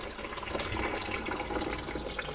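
Steady water runs from a tap into a kitchen sink and drains through the garbage disposal unit, a continuous rushing splash that stays fairly even from start to finish, heard close with no talking.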